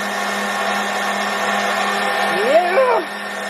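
A Vevor 7x12-inch mini metal lathe carriage gives a steady mechanical whir with a constant hum, rising into a brief sliding whine near the end as it moves along.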